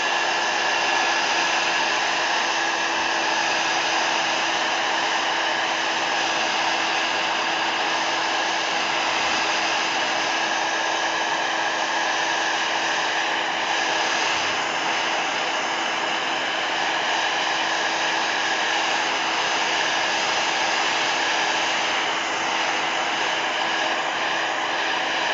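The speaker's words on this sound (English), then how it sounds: "Heat gun." A heat gun blows steadily and loudly, used on a craft napkin journal project, giving a continuous whooshing airflow hum that holds unchanged for the whole stretch without any talk over it.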